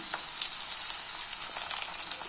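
Curry leaves and chopped tomato fry in hot oil for a soya curry, producing a bright, continuous hissing sizzle with scattered small crackles, close up and without talk.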